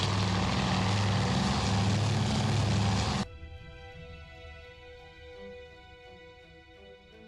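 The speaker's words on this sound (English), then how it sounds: "Now that looks like a seaplane." Seaplane engine in the Task Force Admiral naval combat game set at Midway, a loud steady propeller drone that cuts off abruptly partway through, leaving a quiet tonal hum of background game sound.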